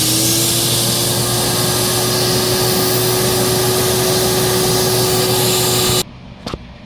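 A Hoover portable 2110 vacuum cleaner runs steadily during an airflow test, a loud, constant close whine with a steady hum that cuts off abruptly near the end, leaving quiet followed by a brief clunk.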